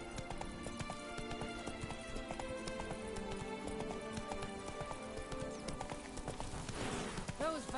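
Roach the horse gallops in The Witcher video game, with rapid, steady clip-clop hoofbeats running throughout over background game sound, and a neigh near the end.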